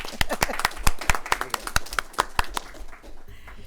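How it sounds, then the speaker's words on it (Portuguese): Audience clapping at a panel session on tax dispute resolution in the digital economy: a handful of distinct, fairly close hand claps in an uneven rhythm, thinning out and fading near the end. "Para o senhor também, uma salva de palmas."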